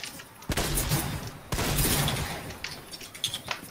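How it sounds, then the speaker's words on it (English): Gunfire in Fortnite pounds a wall in two loud bursts of rapid shots, each followed by crackling impacts and debris that trail off into scattered smaller hits. "Can you shoot that wall?"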